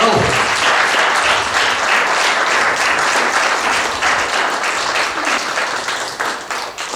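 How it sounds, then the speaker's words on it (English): Sustained applause from an audience at a book launch, loud and dense throughout, tapering slightly toward the end. "I think we can give Mr. Lowe a 30-second clap for that."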